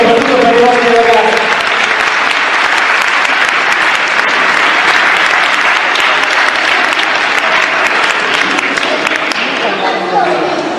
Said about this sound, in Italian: Facciamo un bel applauso di incoraggiamento soprattutto per i nostri ragazzi.